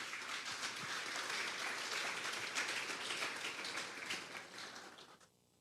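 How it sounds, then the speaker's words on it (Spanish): A dense wash of applause from a church congregation, steady for several seconds before fading out near the end, heard at a moderate distance. "Vamos a darle un fuerte aplauso al Espíritu Santo esta noche."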